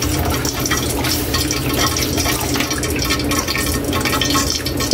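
Chicken being stirred in a cooking pot with added water gives a steady wet sloshing and bubbling, close and continuous, with no talking.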